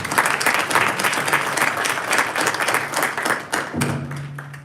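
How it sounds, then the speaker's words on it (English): A crowd at a town council meeting and centennial reenactment applauds the children steadily, a dense wash of many hands clapping at close range with no voices. "Let's give one more round of applause for the kids and for the night."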